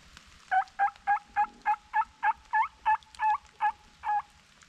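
A person blows a turkey call in a rough gobble imitation: about twelve quick, evenly spaced yelping notes in a steady rhythm, fairly loud and close, with no talking over them.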